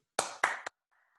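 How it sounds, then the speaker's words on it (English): Three sharp, bright claps ring out in quick succession, each trailing a brief resonant tail, in an otherwise silent setting. "Yes, and then we clap."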